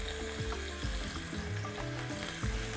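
Food sizzles in a pan with a piece of butter, a steady crackling fry close up, punctuated by soft clinks and scraping as it is stirred or turned.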